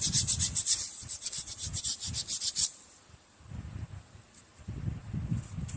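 400-grit sandpaper rubs burrs off drum brake parts in quick rhythmic scraping strokes, close and clear. The strokes pause briefly, then resume more softly.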